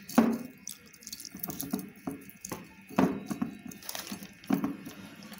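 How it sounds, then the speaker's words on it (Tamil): Water runs and splashes into a bowl to soak agar agar strands for a coconut milk jelly fruit cake. Close, intermittent pours and sloshing bursts come in uneven spurts with small drips between them. "கொஞ்சம் தண்ணி ஊற்றி அலசி வச்சுக்கணும்."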